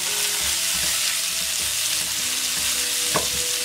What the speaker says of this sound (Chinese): 先把红油炒出来，